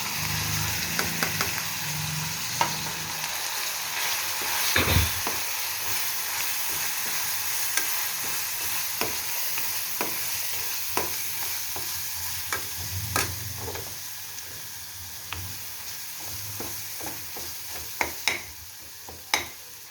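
Fish roe frying in oil spiced with chili powder, coriander powder and turmeric, a steady sizzle broken by repeated scrapes and taps of a spoon against the pan across the whole stretch.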